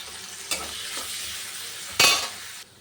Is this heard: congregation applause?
no